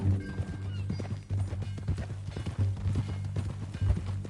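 Hooves of a horse in a video game clip-clop in a steady, continuous rhythm over a low rumbling background, fairly close and prominent throughout.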